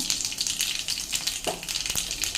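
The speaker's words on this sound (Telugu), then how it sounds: "కొద్దిగా ఆవాలు వేస్తున్నాను, అలాగే జీలకర్ర వేస్తాను, కొద్దిగా ఇంగు కూడా వేసుకుందాం" Mustard seeds, cumin and asafoetida sizzle in hot oil while cooking okra tamarind stew, a steady close crackling fry with a brief stir or clatter midway.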